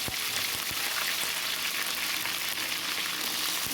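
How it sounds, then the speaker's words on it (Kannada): Mustard seeds spluttering in hot oil for tempering bisi bele bath, a dense, loud crackling sizzle with sharp pops throughout, no voices. "ಸಾಸಿವೆ ಎಲ್ಲ ನೀಟಾಗಿ ಸಿಡಿದ ಮೇಲೆ ಸ್ವಲ್ಪ ಕರಿಬೇವು ಹಾಕೊಳ್ಳೋಣ"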